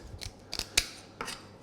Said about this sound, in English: Use my scissors, just take off that fin,